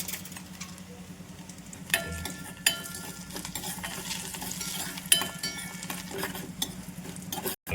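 Urad dal, cumin and chopped ginger fry in cold-pressed oil in a pan, a steady sizzle with a few sharp utensil clinks and scrapes against the pan.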